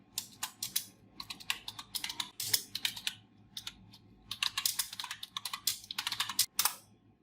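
Fingers typing on a computer keyboard while writing a document in MS Word, heard as quick, irregular bursts of close, crisp key clicks with short pauses between them and no voices.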